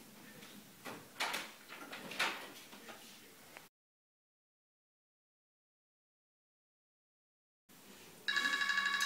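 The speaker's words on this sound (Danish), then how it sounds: "Nu ringer hun igen." A nurse call bell rings in a care setting, a bright steady electronic tone that starts near the end after a silent gap, following earlier rustling and handling noises.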